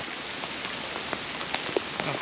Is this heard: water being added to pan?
no